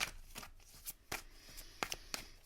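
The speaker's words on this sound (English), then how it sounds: "let's give it a good shuffle" A deck of tarot cards being shuffled close up, with quick papery riffles and snaps coming in irregular bursts against a quiet room.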